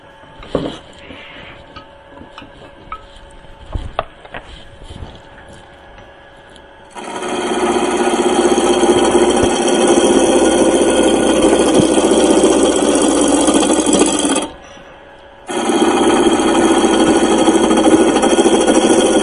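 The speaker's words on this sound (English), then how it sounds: "I'm just going to speed the lathe up a little bit to about 1200." A wood lathe turns a wooden cylinder for a beginner's woodturning job, starting quietly with scattered taps, then rising into a loud, steady whirring drone that stops briefly and picks up again, with no one talking.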